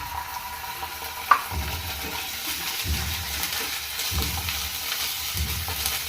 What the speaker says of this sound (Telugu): ఉల్లిపాయలు కూడా బాగా గోల్డ్ కలర్లోకి వచ్చేసాయి కదా, బాగా వేయించాయి